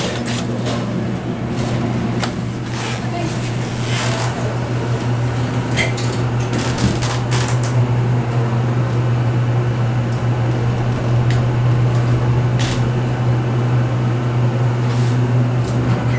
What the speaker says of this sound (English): These were Montgomery elevators at one point.